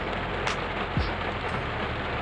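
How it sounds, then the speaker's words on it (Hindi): Steady patter of raindrops on an umbrella nearby, a dense continuous hiss of drops with a faint low rumble in the background. "उस छाते पे जो आवाज़ आती है बूंदों की,"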